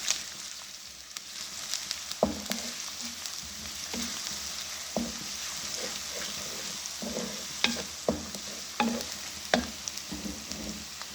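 Steady sizzling of onions and ginger garlic paste frying in a pan, broken by irregular scraping and tapping as a utensil stirs, close and continuous with no talking.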